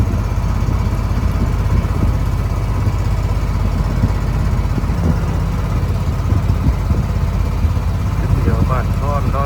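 A boat engine drones steadily and loudly during a river crossing in southern Laos, with constant low rumble throughout and voices talking over it.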